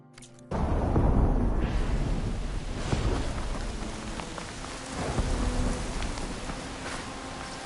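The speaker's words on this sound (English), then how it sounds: "Electrical disturbance from the storm, maybe?" Steady heavy rain with rumbling thunder fills a storm scene in the Horizon Forbidden West game, starting abruptly after a brief near-silent moment and staying loud with swelling low rolls, and nobody speaks.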